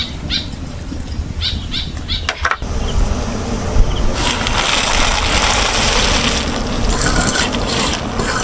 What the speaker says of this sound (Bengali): তার জন্য আমি কড়াইতে প্রথমে জল দিয়ে দেবো।